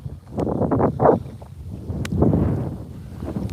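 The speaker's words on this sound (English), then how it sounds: "Is the wind bad?" Outdoor wind gusts buffet the microphone in uneven rumbling bursts, loud and close, with rustling between the gusts.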